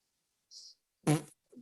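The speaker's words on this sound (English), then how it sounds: "Fart noise." Amid a sports podcast, a single short, punchy fart noise blurts out loudly and close, framed by a faint hiss before it and a small trailing sputter after.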